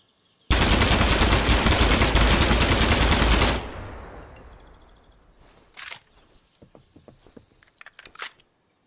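Sustained rapid automatic gunfire in the video game Gunsmith Simulator, a loud continuous burst lasting about three seconds that cuts off into a fading tail, followed by scattered mechanical clicks and clacks.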